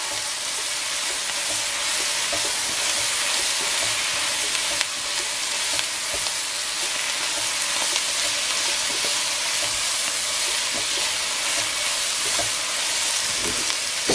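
Parsley and dill are stirred into a loudly sizzling pot, steady frying hiss running throughout with faint scraping stirs and no voices.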